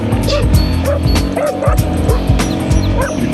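A mountain shepherd's guard dog in Morocco barks and yips repeatedly and close by, protecting its flock, with some whimpering between barks and a faint vehicle hum beneath.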